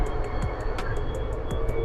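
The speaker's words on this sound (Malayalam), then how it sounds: "സാധാരണ ട്രെയിൻ പോകണ അത്രത്തോളം സ്പീഡിൽ പോകാണല്ലോ." A Paris underground metro train runs at speed, heard from inside as a steady, loud rumble with a regular ticking click from the rails and occasional brief squeals.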